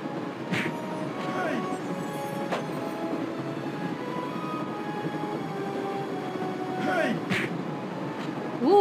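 A train in the adventure game Baphomets Fluch (Broken Sword) rumbles steadily along the rails with a few sharp metallic clanks, heard under game dialogue voices.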